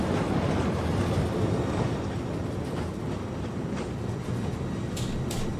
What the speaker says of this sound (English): Alright, reverser on.